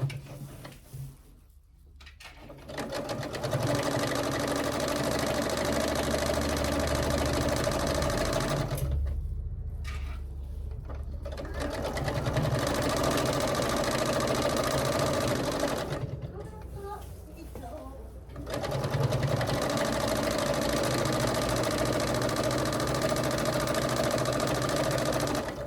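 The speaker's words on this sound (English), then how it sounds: "we're going to sew this 1/4 inch seam allowance all the way down this side" A domestic sewing machine stitches a quarter-inch seam along the side of a binding on a quick handmade gift, running steadily in long continuous bursts with short pauses between, close and clear, with no talking.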